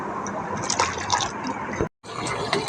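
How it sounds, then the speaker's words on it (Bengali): Cooked lentil dal poured through a strainer in a home kitchen, a close, wet trickle and splash with a brief gap before the pouring resumes. "ডালটাকে সুন্দর করে চেলে নিয়ে আবার চুলায় বসিয়ে দিয়েছি"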